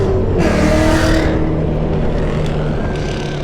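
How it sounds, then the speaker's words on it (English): Race cars at New Smyrna spectator match races pulling away from a green-flag start, a loud, dense engine roar with rising revs and a brief high whine early on, sustained and close throughout. "Green flag is out. Big Gravy gets the jump"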